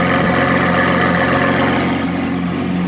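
Lamborghini Aventador SVJ V12 engine idling, a steady, loud, close low rumble with an even tone and no revving, heard alone without voices.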